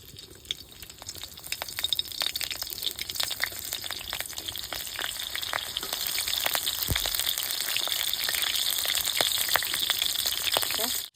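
Green chillies sizzle in mustard oil in a hot kadai, a steady crackling fry with scattered pops and spits that grows fuller toward the end.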